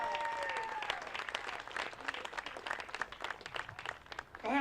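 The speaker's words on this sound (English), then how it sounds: "Big round of applause for our president, Mr. Ron Kubicki" Warm applause and clapping from a crowd at a museum opening greets the president, steady at first and thinning toward the end, with a voice heard over it.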